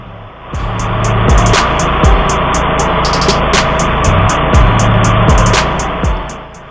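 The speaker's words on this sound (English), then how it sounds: "I'm using a 1999 DR all-terrain brush and field mower, model AT1" A 1999 DR all-terrain brush and field mower, model AT1, runs with a steady loud engine drone close by, punctuated by regular high ticking or clattering bursts, then fades toward the end.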